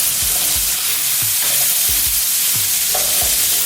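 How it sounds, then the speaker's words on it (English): Bacon fries in a pan as its fat renders, a loud, continuous crackling sizzle with low thumps and scrapes from stirring at a steady pace, and no voices. "You see this bacon just sizzling and you're seeing the fat render."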